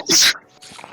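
A single short, bright sneeze bursts out close by, followed by faint rustling.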